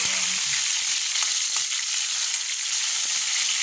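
Pork bones for mung bean stew sizzle and fry steadily in a pot, a constant close hiss with a few soft clinks of stirring and no voices.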